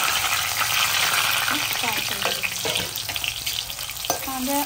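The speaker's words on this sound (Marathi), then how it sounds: "तर आता कांदा आपण फ्राय करून घेऊया" Two large onions hit hot oil with a bay leaf for chicken kharda, giving a loud, steady crackling sizzle with stirring, and a faint voice murmurs in the background.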